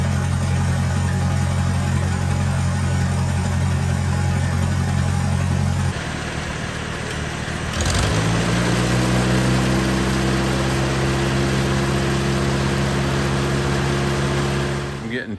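A 1948 Farmall Super A tractor engine runs with heavy blow-by, blue smoke and dropped compression, making a loud, steady, close idling drone. The drone shifts in tone partway through and then settles into an even hum.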